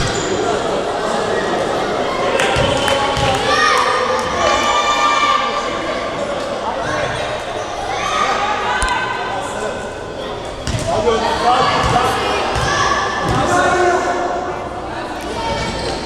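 Basketball bouncing on a gym floor during free throws at an under-10 youth game, with repeated thuds over constant crowd noise and a voice commentating throughout.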